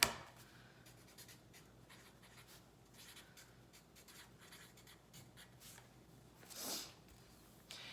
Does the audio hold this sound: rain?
no